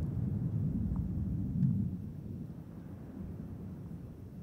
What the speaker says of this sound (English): a sonic boom felt throughout the Kennedy Space Center and Cape Canaveral Air Force Station area